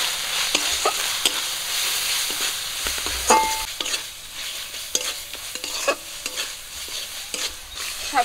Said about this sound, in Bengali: মশলা আমি একটুখানি ভেজে নিয়েছি